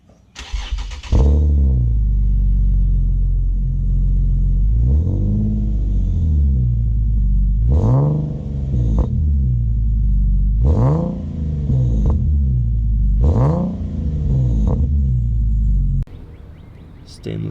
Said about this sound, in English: From the downpipes down is a fully custom built exhaust system